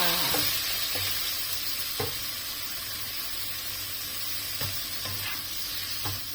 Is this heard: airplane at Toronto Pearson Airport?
no